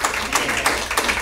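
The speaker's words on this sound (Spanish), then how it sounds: "¿Cuántos pueden darle todavía un buen aplauso al Señor esta mañana de todo su" A church congregation claps together during a Sunday morning service, a brief, fairly loud burst of rhythmic applause from many hands.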